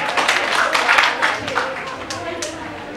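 Dense applause from an audience at an OK OCE business roadshow in a government office hall, a steady wash of many hands clapping for about three seconds, fading slightly toward the end.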